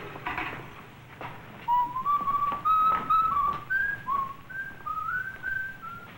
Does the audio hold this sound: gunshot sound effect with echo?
no